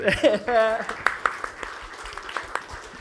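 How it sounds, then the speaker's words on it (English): A panel audience gives a round of applause, light scattered clapping that starts after a brief voice and continues thinly and not very loud. "round of applause"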